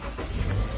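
A 2018 Subaru Forester engine running just after being started with a newly programmed transponder key, a steady low idle rumble heard close by with no talk.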